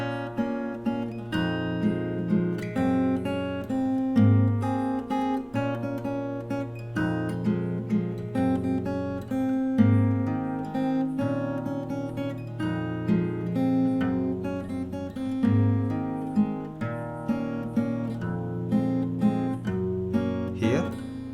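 Fingerstyle acoustic guitar plays a melody with plucked bass notes under a repeating treble line, in a steady, moderately paced and intimate solo performance.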